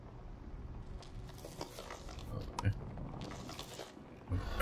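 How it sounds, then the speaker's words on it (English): A creature eating mushrooms in the video game Wandering Village makes crunchy, irregular chewing and biting sounds at close range, with a few louder crunches over a soft, noisy background. "Crunching noises."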